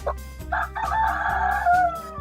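A Filipino gamecock rooster crows nearby, one full cock-a-doodle-doo rising and drawn out, loud and close, with faint clucking and a steady low hum behind it.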